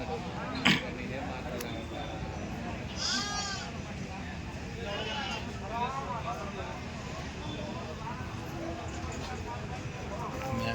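Goats bleating amid a busy, noisy livestock market crowd, several wavering calls at moderate distance over constant background chatter.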